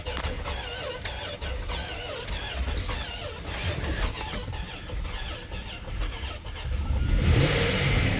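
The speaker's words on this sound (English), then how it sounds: "Just had to give it a little gas there." A cheap Range Rover with a blown head gasket and a failing starter runs with a steady, close engine rumble, then revs harder and louder near the end. No one speaks.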